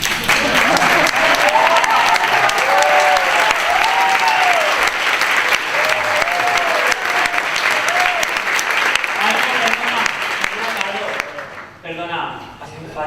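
A concert audience breaks into loud, sustained applause for a typewriter, clapping continuously with some voices mixed in before the clapping thins out and cuts near the end.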